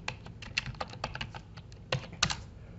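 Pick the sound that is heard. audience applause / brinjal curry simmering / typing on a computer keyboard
typing on a computer keyboard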